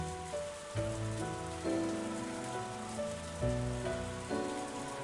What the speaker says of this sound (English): I listened to the soothing sounds of raindrops hitting the scrap iron